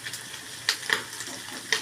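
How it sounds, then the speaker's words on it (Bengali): Garlic frying in a pan for sauce, a light sizzle with sharp crackles and pops scattered over a soft steady hiss, close and fairly quiet. "সসের কাজ হচ্ছে রসুন ভাজা হচ্ছে"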